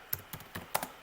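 Quick light keystrokes on a computer keyboard come in a short uneven burst of about half a dozen close, crisp taps, with quiet gaps between them.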